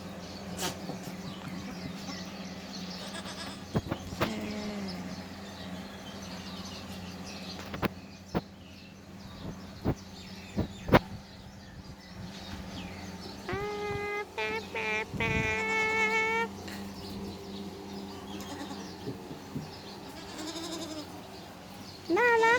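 Dairy goats bleating intermittently on a goat farm as they line up in a pen for milking, a few clear calls near the middle over a steady background hum, buzzing flies and scattered clanks.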